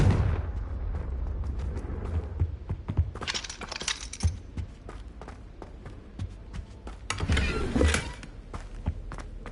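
A Confringo fire spell in Hogwarts Legacy, cast as a burst of crackling blasts over a low rumbling bed, with sharp bright impacts recurring through the clip.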